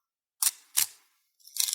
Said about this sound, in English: If you press the shutter button, you can see if it has film because it will...